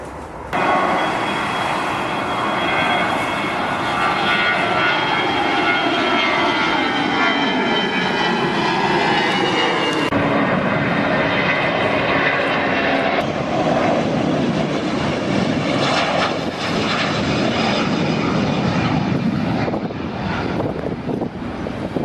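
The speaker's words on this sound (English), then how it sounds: "Every 5 or 10 minutes, a plane takes off from here." A jet airliner takes off at Geneva Airport in Switzerland, a loud, continuous engine roar that holds steady and fills the whole stretch, with no voices over it.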